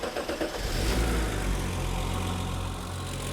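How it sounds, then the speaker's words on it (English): A BMW E34 M5 engine runs steadily after a brief blip, with a deep, loud continuous drone and a faint ticking of slight tappet noise, and no voices. "A little bit of tappet noise is actually perfectly acceptable."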